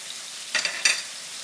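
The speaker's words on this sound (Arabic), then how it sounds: "نقعد نقلي فيها طماطم هكاكا 5 دقايق يمكن" Tomatoes fry in oil in a pan for a Tunisian tastira, with two quick bursts of sizzling and stirring rising out of a faint background hiss, close by.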